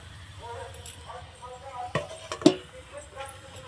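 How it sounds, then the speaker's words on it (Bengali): A lid goes onto a cooking pot of falai fish and vegetables, giving two sharp metallic clanks close by. Quieter kitchen clatter and soft talk surround the clanks. "দিয়ে এবার একটু ঢাকা দেব।"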